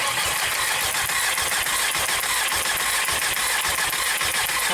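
A 1.8T car engine with a misfire cranks and runs, giving a steady, loud mechanical drone with rhythmic pulsing throughout, no voices over it.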